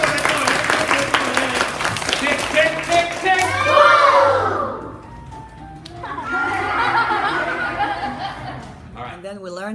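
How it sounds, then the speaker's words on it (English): Applause from an audience of children at a stage show, a burst of clapping with some laughter, rising after a performer's voice and fading before more talking. "So when I go like this, I want you guys to applaud"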